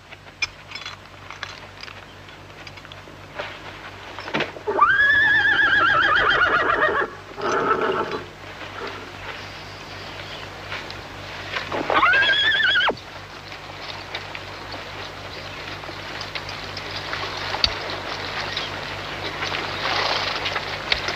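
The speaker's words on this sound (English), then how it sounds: "Take the horses to the river." Horses whinny loudly twice, long shrill neighs rising and falling, with snorts and hoof clatter between them over a low outdoor rumble.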